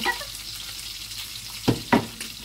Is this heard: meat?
yes